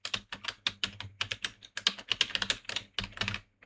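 Keys clatter on a computer keyboard as a name is typed into a new Photoshop document, with quick close bursts of clicks separated by short pauses and no voice.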